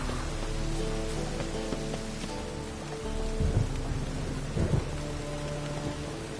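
Rain and thunder in The Witcher 3, with heavy rain pattering steadily on surfaces while low thunder rolls and grumbles underneath, swelling briefly twice.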